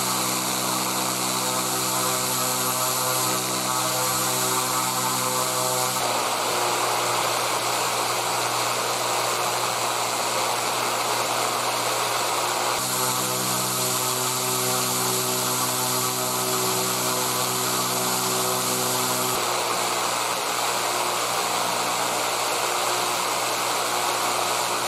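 A propeller on a motor thrust test stand runs at speed with a loud, steady airscrew whine and rich droning tones, and the pitch shifts in distinct steps as the throttle changes.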